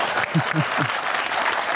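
Studio audience applause on a Pakistani comedy talk show, a steady loud wash of clapping with a few low vocal calls or whoops near the start.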